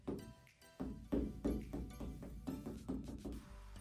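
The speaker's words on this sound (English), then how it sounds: "my canvas sounds like this." A stretched, high-quality canvas on wooden edges is tapped repeatedly by hand, giving a run of close, hollow, drum-like knocks in an uneven rhythm with short resonant decays.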